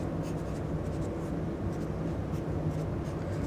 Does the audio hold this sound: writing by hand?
yes